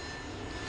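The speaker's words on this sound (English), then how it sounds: "Airplane." Airplane engine sound effect: a brief, steady propeller-aircraft drone, even and continuous without a break.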